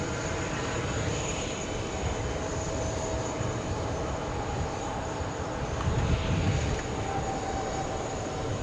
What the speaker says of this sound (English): we have Ita flying in from Rome